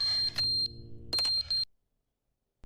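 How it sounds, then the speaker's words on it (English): A loud, piercing electronic alarm tone from The Stanley Parable repeats in several bursts with a few brief gaps before cutting out into silence, then a faint sound returns at the very end. "Oh, the beeping!"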